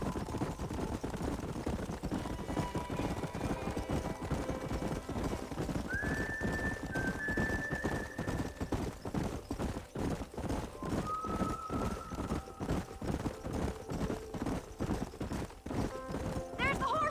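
Horses gallop in a steady rapid clatter of hooves through a Red Dead Redemption herd scene, with a couple of drawn-out whinnies rising above the pounding rhythm for the whole stretch.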